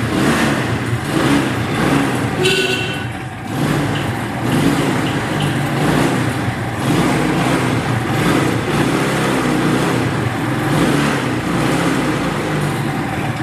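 Motorcycle with self-start running steadily after starting, a loud close engine drone with uneven mechanical rattle and chug throughout.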